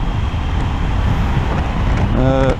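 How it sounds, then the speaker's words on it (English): Wind roars in a dense, steady rush around the helmet of a rider on a Triumph Tiger 900 Rally Pro motorcycle at speed, with an engine tone rising near the end. "I gotta hunch down a little bit to get out of the wind"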